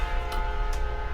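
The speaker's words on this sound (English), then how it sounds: "there's a train going by" A train passes in the background near a home in Decatur, Illinois, giving a steady mechanical rumble with sustained horn-like tones that hold for about a second at an even, moderate level.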